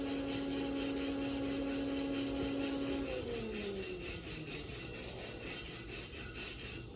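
A wire brush scrubs slag off a 6010 butt weld in a welding shop, a steady close rasping scrape running continuously under a faint humming tone that fades partway through.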